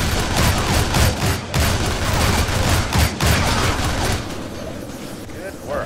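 Dense gunfire from the Shank 2 co-op game, a loud continuous volley of overlapping shots and impacts that thins out near the end, with voices mixed in.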